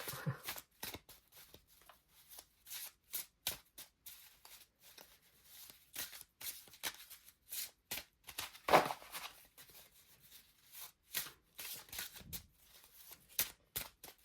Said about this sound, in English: I shuffle, but then I choose.